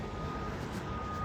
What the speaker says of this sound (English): making little beep sounds, wishing he was a big earth mover